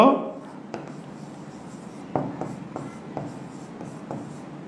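Writing on a board during a geography lesson, with a series of short tapping and scratching strokes under a faint room hum, following a brief burst of a teacher's voice at the start.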